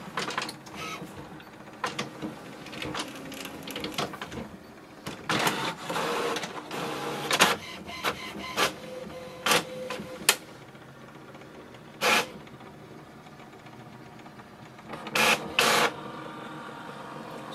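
An HP Envy Photo 7855 inkjet printer running a copy job, with steady mechanical whirring and a series of sharp clacks and thumps from the paper feed and automatic output tray, close and loud, no talk.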